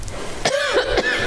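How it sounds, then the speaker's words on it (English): A single sharp cough bursts out during a worship service's children's message, close and fairly loud, followed by a brief second throat-clearing burst over faint room noise. "If this cough"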